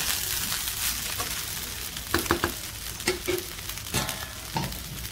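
A spoon stirring sabudana khichdi in a sizzling pan, with steady frying hiss and several scraping clinks close up, no one talking.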